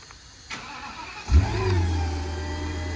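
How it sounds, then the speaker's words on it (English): A gas V10 engine in a 2015 Ford F550 4WD crane truck cranks briefly and catches, then settles into a steady, fairly loud idle after a short flare. "Start the engine back up."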